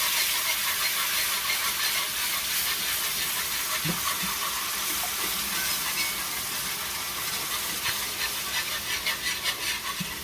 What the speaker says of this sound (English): we're going to let this simmer like this and thicken up